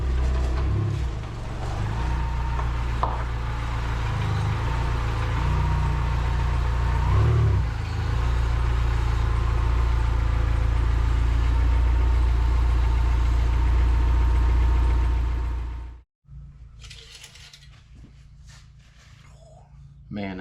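A Dodge Neon SRT-4 turbo engine runs steadily at close range for about fifteen seconds with a brief rev in the middle, then cuts off abruptly, leaving quiet background.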